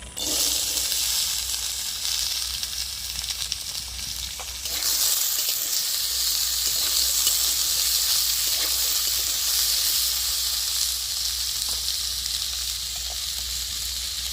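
Jackfruit seeds and potato pieces fry in hot oil in a kadai, giving a continuous bright sizzle and hiss that swells after a few seconds and holds steady, close and fairly loud, with no talk over it.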